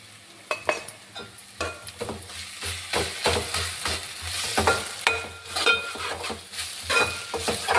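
Ginger garlic paste fries in a pan while a spoon stirs and scrapes it, giving a soft continuous sizzle under repeated clinking metal strokes at an uneven rhythm, close and fairly loud.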